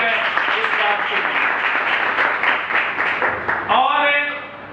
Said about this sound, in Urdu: آئے زوردار تالیاں بجائیں اس بات کے۔